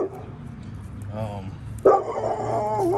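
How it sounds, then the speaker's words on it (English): A neighbor's dog barking outdoors near a garden: a few short barks and yips, moderately distant, with someone talking over and between them. "I guess that's a neighbor dog"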